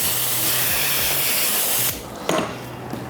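A water spray hisses steadily while rinsing the debris tray of a Kärcher BR 35/12 C scrubber dryer, then cuts off abruptly, leaving faint clatter and quiet.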